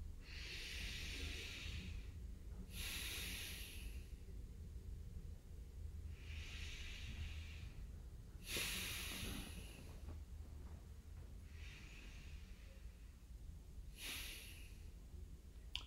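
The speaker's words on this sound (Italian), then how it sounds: "puoi fare tre respiri profondi, trattenendo l'aria alcuni istanti, e espirandola fuori con il naso" Deep breaths during a guided meditation, held briefly and then let out through the nose: about five soft, close, airy bursts spaced a few seconds apart over a low, steady background rumble, with no talking.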